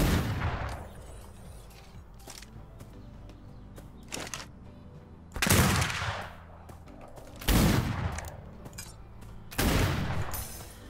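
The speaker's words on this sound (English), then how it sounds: "I don't even know which one's shooting at me." Pirates fire guns in the video game Atlas at a wild pirate encampment. The shots come as several separate sharp bursts spaced a few seconds apart over a low, steady background.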